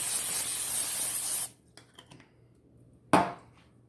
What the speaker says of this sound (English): I always spray the basket.